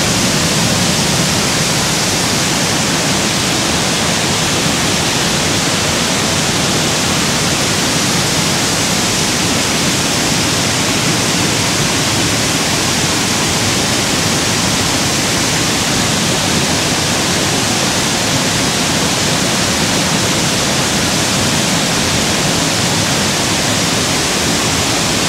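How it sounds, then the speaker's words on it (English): Waterfall at Ricketts Glen State Park roars as a loud, steady, dense wash of falling water, unbroken and close, with no voices over it. "This cold air coming off this waterfall feels amazing."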